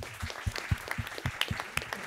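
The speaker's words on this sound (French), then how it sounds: "Allez, on l'applaudit." An audience at a participatory theatre debate on the ocean's future in Nouvelle-Aquitaine claps in sparse, clearly separated beats, moderately quiet and rhythmic.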